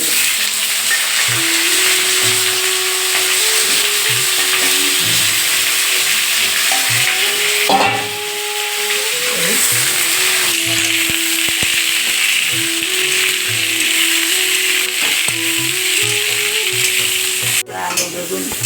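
Cumin seeds frying in hot oil in a small home kitchen pan, a loud, close, continuous sizzle with faint background hum and a sharp clatter near the end, no talking.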